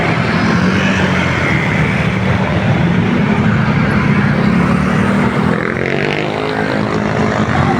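Street traffic on Agham Road, a steady loud wash of passing vehicles with a low engine rumble, continuous throughout with no talk.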